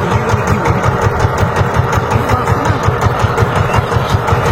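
A power tiller harrowing a farm field runs steadily and loudly, its engine chugging in an even, continuous rhythm close by with no voices.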